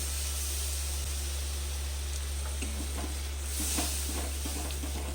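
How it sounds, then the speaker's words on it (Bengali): Poppy seed paste for an eggplant poppy seed dish is stir-fried in a pan. A constant hissing sizzle runs under a low steady hum, and a run of soft, quick spatula scrapes comes midway. No voices. "পোস্তটাকে একটু আমি কিছুক্ষণ কষে নেব"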